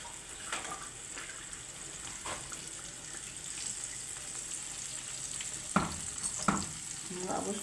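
Cauliflower fries in hot oil with a steady, quiet sizzle. A few sharper clinks and scrapes sound near the end.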